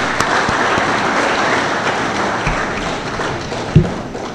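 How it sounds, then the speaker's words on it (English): Applause from attendees at a university inaugural lecture in Accra, moderately loud and steady, punctuated by a few scattered taps and dull thumps. "let's clap for them."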